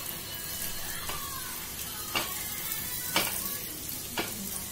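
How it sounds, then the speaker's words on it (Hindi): Baati dough balls sizzle as they cook in a pan for dal baati churma, a steady crackling fry with a few brief louder pops and no talk. "इसमें बाटिया डालते जाइए"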